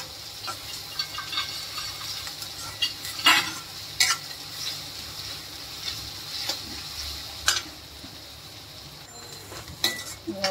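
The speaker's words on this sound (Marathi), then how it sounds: "कांदे चांगले ब्राऊन होईल तोपर्यंत भाजून घेऊया आपण।" Sliced onions frying in a pan until brown for masala chole, a steady soft sizzle with intermittent scraping stirs of a spatula, close and fairly quiet.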